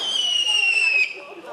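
A firework rocket launching on Bonfire Night, a bright whistling whoosh that slowly falls in pitch over about a second before fading, heard near and without talk.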